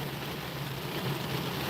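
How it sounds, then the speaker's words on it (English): Heavy rain falls on a car parked at a Walmart lot, heard from inside as a steady dull roar with a low rumble, no talk. "it's raining pretty good outside."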